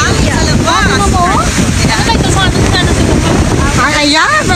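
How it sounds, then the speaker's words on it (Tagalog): Strong outdoor wind on a day off in Singapore roars and buffets the microphone continuously and loudly, with voices talking faintly underneath. "Oh my God, the wind ah!"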